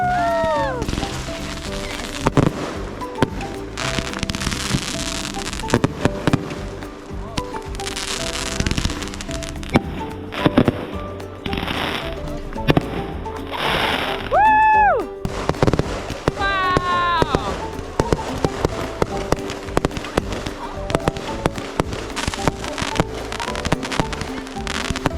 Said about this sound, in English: We realized that there were fireworks at the library at 9 o'clock